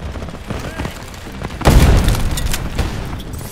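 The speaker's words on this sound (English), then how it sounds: "The enemy is using their arm launcher" In a Ghost in the Shell video game, an enemy arm launcher fires in the ruins of a district: a single heavy, close boom bursts out over faint background rumble and tails off into a rolling echo.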